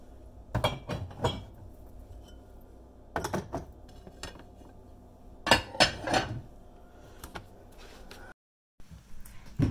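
Dishes being handled and put away in a home kitchen, with several separate bursts of clattering and clinking set apart by quieter pauses.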